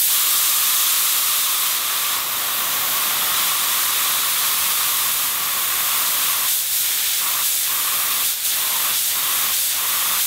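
A steady, loud airy hiss of an automotive paint spray gun at about 28 to 29 PSI runs continuously, briefly interrupted by short pulses near the end.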